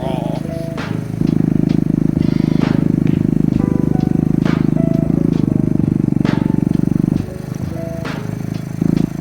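A Honda Grom clone motorcycle engine drones steadily and loudly while riding, with a raised revving throughout and a brief dip near the end, over road and wind rumble.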